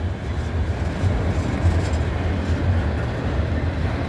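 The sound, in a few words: heavy train slowing, climbing a hill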